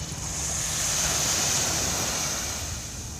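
Waves washing onto a small beach along San Francisco Bay, a continuous hissing surf swelling gently and fading, mixed with steady wind noise on the microphone and no talking.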